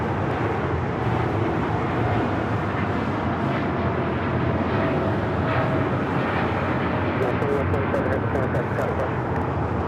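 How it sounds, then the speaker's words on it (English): A United Airlines Boeing 787-9 Dreamliner takes off at Los Angeles airport. A loud, steady roar of jet engines fills the whole stretch, with faint voices underneath. "2127 taking off to Newark on the 787-9 Dreamliner"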